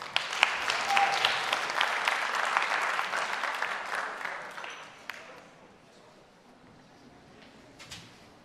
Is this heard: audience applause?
yes